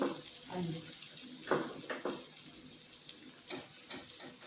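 Dal masala sautéing in a pan for spicy dal, soft sizzling and stirring scrapes in uneven bursts, fairly close and moderately quiet, with no talking.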